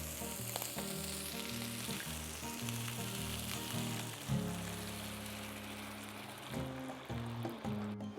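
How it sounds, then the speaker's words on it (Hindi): Chili, basil and oregano sizzle loudly in a hot pan as a splash of water hits it, giving a steady crackling frying sound with stirring, while a low tonal background runs underneath. "और इसमें ऐड करते हैं थोड़ा सा पानी।"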